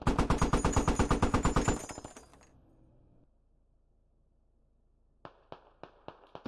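Gunfire in the video game Squad: a loud, rapid automatic burst for about two seconds fades into quiet, then several sharp single shots crack at an uneven pace near the end.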